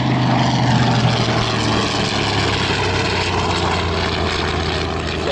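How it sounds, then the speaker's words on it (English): Warbird propeller aircraft at an airshow on the prairie, a loud rasping engine bark from supersonic propeller tips, with a sustained roar that fades slightly, close and alone. "it's the tips of the propeller are flying supersonic. So that's where you get the bark."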